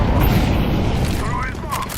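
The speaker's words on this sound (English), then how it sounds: "I'm throwing a flashbang." A flashbang grenade goes off in Counter-Strike 2 as a dense, sustained booming rumble that fills the whole stretch, with faint ringing tones near the end and busy game noise around it.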